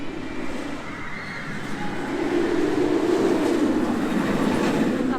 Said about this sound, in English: it's used to having two trains going around making a lot of noise